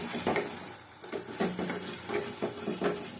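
Egg curry with masala and curd is stirred and sautéed in a pan over low heat, soft repeated scraping strokes over a faint sizzle, quiet and close.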